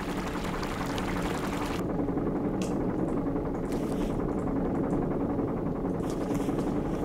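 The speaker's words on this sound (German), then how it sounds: "Also, so rein physikalisch fließt hier Wasser rein." Liquid pours and squishes continuously in the video game Psycho Train as water flows in, a steady close wet rush with occasional drips and no talk over it.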